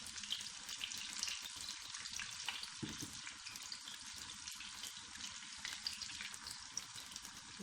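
Potato chips and pakoras fry in hot oil, a close, steady crackling sizzle with dense high hiss and small pops throughout, and no speech.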